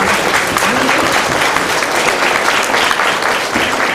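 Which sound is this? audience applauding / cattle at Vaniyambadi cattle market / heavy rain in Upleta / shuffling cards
audience applauding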